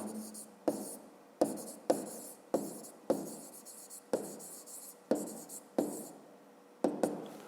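A pen scratches across paper in repeated short strokes, roughly one every half second to second, close and clear, with no voices.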